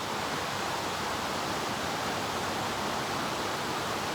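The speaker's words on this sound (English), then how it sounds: "This is actually Christine Falls. You know, there's another waterfall upstream, but you know, this is really the falls." Christine Falls waterfall pours with a loud, steady broadband roar of rushing water, continuous and close, with no voices over it.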